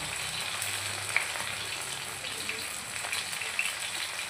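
Katla fish pieces turned over one by one and shallow-frying in a pan, a steady even sizzle with a couple of faint clicks from the turning, no voices.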